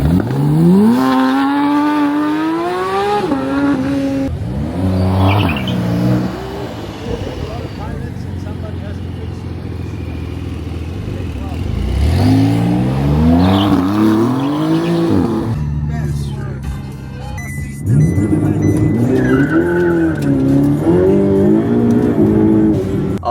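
A stock car's engine revs and drives up and down repeatedly, loud and close, with rising and falling pitch sweeps and brief pauses, while people talk over it.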